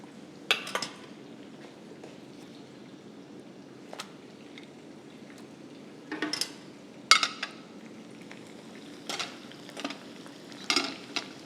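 Chicken frying in hot oil for a restaurant-style Japan chicken dish, soft steady sizzle with intermittent clinks and stirring scrapes of a utensil against the pan.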